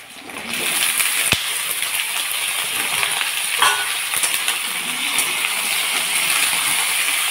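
Pieces of jackfruit frying in a pan as a Bengali home recipe is cooked, a steady crackling sizzle with a couple of sharp utensil clicks against the pan, all fairly close and loud.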